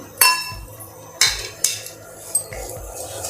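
Semolina roasts in ghee in a pan, stirred with a metal spoon that clinks and scrapes sharply against the pan in a few distinct knocks over a soft background, close up, without talking.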